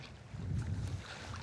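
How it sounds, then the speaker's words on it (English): Gusty wind sweeps across open sea-trout water by a rocky shore at Saltö, a steady low rumble with soft buffeting swells, no voices. "The gust is picking up."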